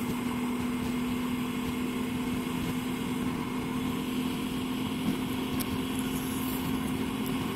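A motorcycle engine runs steadily at idle, a constant close drone with a strong low hum that holds even throughout, with no talk over it.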